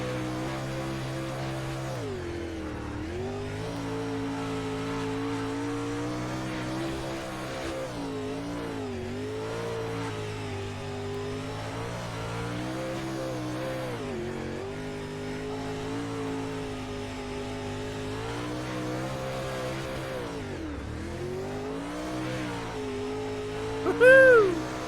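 Onboard steel block late model race car engine at Fairbury Speedway, a steady loud roar rising and falling as the driver lifts and accelerates through the corners lap after lap, with a brief squeal near the end.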